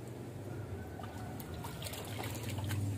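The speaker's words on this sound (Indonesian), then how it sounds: "Kita tinggal siram langsung ya." AB Mix nutrient solution is poured onto potted aglaonema plants, a soft steady trickle and splash of liquid that swells slightly toward the end, quiet and close.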